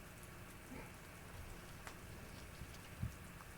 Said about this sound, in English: We got quite a thunderstorm going here.